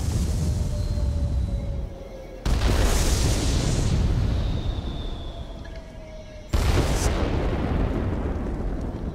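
Heavy bomb explosions from an attack aircraft in World of Warplanes, two loud booming blasts that erupt suddenly over a continuous droning engine roar, each followed by a rumbling decay.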